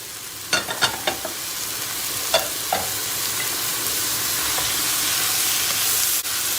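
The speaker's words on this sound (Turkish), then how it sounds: "Biberleri ilave ediyoruz. Domatesleri ilave ediyoruz." Caramelized onions with freshly added peppers and tomatoes fry in a single pot, giving a steady close sizzle and hiss; a few sharp stirring clicks come early, then the frying settles into a continuous rush.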